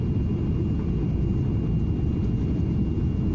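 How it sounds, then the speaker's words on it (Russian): Steady, loud low-pitched roar of a TUI fly airliner's engines as it descends for landing in Belgium, constant throughout with no voices. "Самолет все ближе и ближе к земле, и мы идем на посадку."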